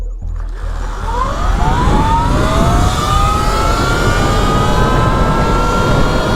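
Two electric dirt bikes, a 2025 Surron X and an E-Ride Pro 3.0 in sport mode, racing: loud rising motor whine climbing steadily in pitch with heavy wind rush, close and continuous.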